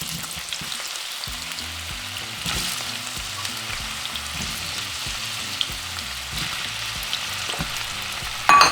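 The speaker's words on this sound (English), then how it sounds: "So now we're going to fry them for about 5 to 6 minutes or until our potatoes are fully cooked." Potatoes fry in hot olive oil in a pan, a steady close crackling sizzle throughout with occasional louder pops and faint utensil clinks.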